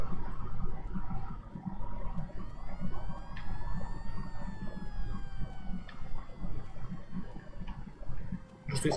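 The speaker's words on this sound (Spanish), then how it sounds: "¿Qué coño es esa sirena?" Siren wailing in the Destroy All Humans video game, a rising and falling electronic tone riding over a dense, steady bed of game noise and rumble for the whole stretch, with occasional sharp clicks.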